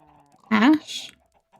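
A sheep in the video game FTB Skies lets out one short, fairly loud bleat against a quiet background, trailing off into a brief hiss.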